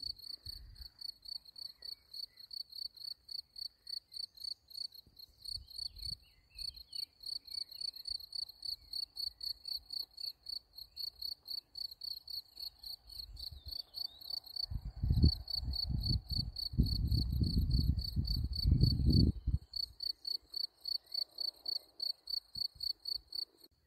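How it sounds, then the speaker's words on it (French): Crickets chirp in a steady, rapid pulsing rhythm throughout, with faint low rustling and movement sounds underneath, growing louder briefly midway. "J'adore le bruit des grillons."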